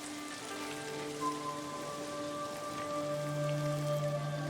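Soft, steady rain falls near a mountaintop shrine in Ghost of Tsushima, a continuous quiet patter under sustained tonal music.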